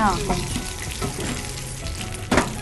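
A sesame and cucumber chutney sizzles in a pan with a tempering of chilies and curry leaves. The frying hiss stays steady and close, a sharp burst comes near the end, and a voice is faintly heard early on.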